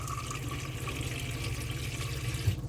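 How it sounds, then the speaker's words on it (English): Water runs from a caravan sink tap fed by an electric pump, a steady close hiss and trickle lasting throughout with a faint low hum underneath and no talking. "push it to the left like I've just done, and just pull the water through"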